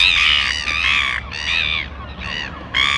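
Gull calls ring out in a series of loud, drawn-out squawks with brief pauses, over a low rumble of distant traffic.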